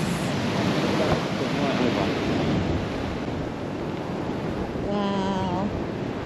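Ocean waves crash over coastal rocks in a continuous roaring wash of surf, loud and close, with wind buffeting the microphone and a brief voice near the end.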